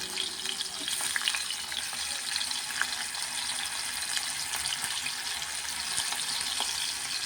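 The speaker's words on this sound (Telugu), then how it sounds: "చేపలు అయితే ఫ్రై అవుతున్నాయి కదా" Dried fish frying in hot oil in a pan: an even, steady crackling sizzle at moderate volume, continuing unbroken with faint spitting pops and no talk.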